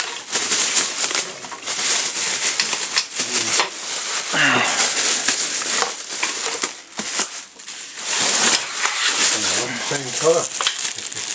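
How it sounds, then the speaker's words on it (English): Plastic bagging is torn and crinkled off the swing arm of a 1991 Kawasaki ZZR600 motorcycle, loud close rustling and ripping in uneven bursts, with a brief spoken remark. "Time to unbag the swing arm."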